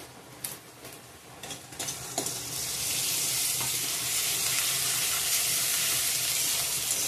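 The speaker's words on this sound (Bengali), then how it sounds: "গোটা গরম মশলা, দারচিনি, এলাচ, পেঁয়াজ রসুন সব কিছু দিয়ে ভেজে নিলাম। এখন থেতো করা আদাটা দিয়ে দিলাম" Whole spices, cinnamon, cardamom, onion, garlic and crushed ginger fry in hot oil, a steady close sizzle with occasional stirring clinks that swells into constant hissing.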